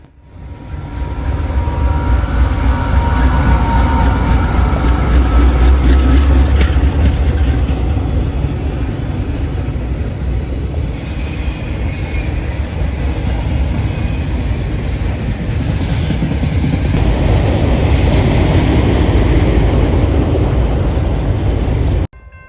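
A CSX freight train, manifest M209 led by an AC-44CW locomotive with a second AC-44CW under remote control midtrain, rumbles past loud and close in a steady, continuous roar that holds for the whole passage.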